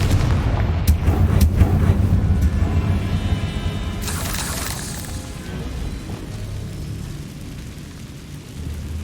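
A Confringo blast spell explodes in the game Hogwarts Legacy, a deep rumbling boom with sharp crackling bursts, followed by a bright flaring burst midway and a long, fading low-end rumble.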